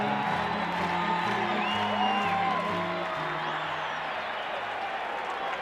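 A big baseball crowd at the 1987 World Series Game 5 in St. Louis, Twins at Cardinals, gives sustained applause and cheering as a continuous, even roar with steady tones beneath it.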